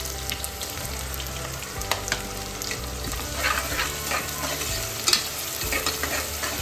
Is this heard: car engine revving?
no